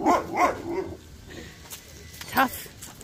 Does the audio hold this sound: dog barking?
yes